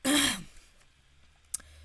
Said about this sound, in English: You clear your throat.